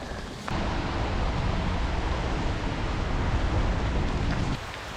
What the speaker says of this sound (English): Started with rain, it's gonna end with rain. But it's coming down too hard right now.